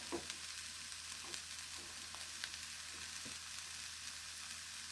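Sliced onions frying in a pan for a gongura and ash gourd pulusu give a continuous soft, even sizzle with faint clicks of stirring throughout, fairly quiet, no talking.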